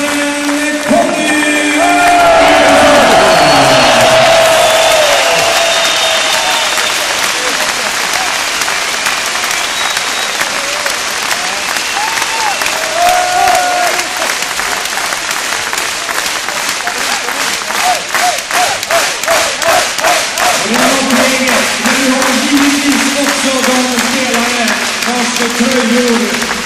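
A crowd at a Scandinavian sports team introduction gives sustained applause and cheering. The clapping swells loud and continuous, then carries on steadily for the rest of the clip while an announcer calls out names over it.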